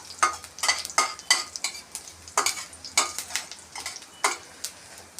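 Cumin and mustard seeds crackle and garlic fries in hot oil, with a sharp sizzle under a quick series of close, rhythmic stirring scrapes against the pan.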